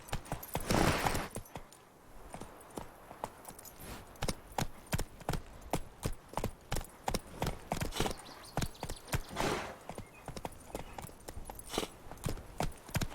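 Roach, the horse in the video game The Witcher 3, trots with crisp, rhythmic hoof clip-clops that repeat at a steady pace, sharp and close, with no talking.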